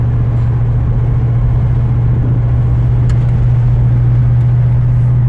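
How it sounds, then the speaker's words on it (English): A 1970 Dodge Charger R/T's air conditioning fan running, a steady low whooshing hum blended with the idle drone of the engine, constant throughout. "And you can hear the fan working, just barely."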